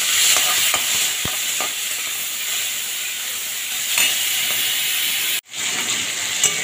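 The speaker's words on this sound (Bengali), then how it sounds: "খুব ভালোভাবে লাল লাল করে ভেজে নেব।" Turmeric-and-salt shrimp browning in hot oil left over from frying gourd fritters, with a continuous loud sizzle, occasional spatula scrapes and clicks, and a very brief dropout near the end before the hiss resumes.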